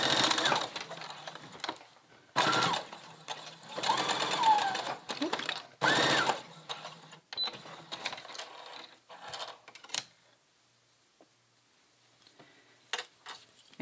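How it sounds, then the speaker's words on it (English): Sewing machine stitching across a fabric insert set into a top, its motor running in several close, loud bursts separated by pauses, then stopping near the end, leaving only a few faint clicks and a quiet voice. "So now you just need to finish sewing."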